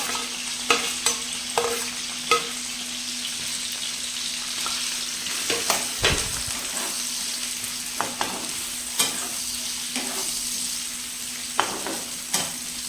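Potatoes and onions fry in a hot pan for desi-style Hakka noodles, a constant sizzle broken by frequent spatula scrapes and sharp metallic knocks as the pieces are stirred, with no talking.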